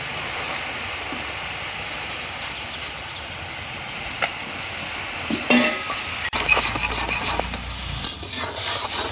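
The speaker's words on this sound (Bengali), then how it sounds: "খানিকক্ষণ নাড়তে থাকবো" A pan of chutney with Kashmiri chilli powder, black salt and a little sugar sizzles and hisses steadily while it is stirred, with occasional scrapes and clinks of the spoon against the pan.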